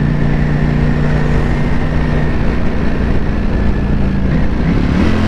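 A Ducati Panigale V4S ridden through London city streets holds a loud, continuous close-up engine roar as it accelerates with quick shifts, the pitch climbing and stepping between gears.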